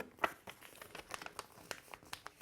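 Paper being folded by hand into a CD envelope, giving a series of close, crisp crinkles and crackles spread unevenly over a couple of seconds, with no talking.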